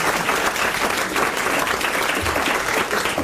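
Radio studio audience applauds loudly and continuously on a French comedy panel show, a dense steady wash of clapping with faint crowd murmur.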